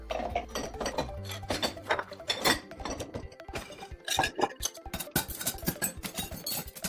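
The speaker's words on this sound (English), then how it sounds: "your best place is to start putting the dirty dishes in the dishwasher." Dirty dishes and silverware loaded into a dishwasher, a busy run of clinks, knocks and rattles of plates and cutlery, close and uneven, one after another without pause.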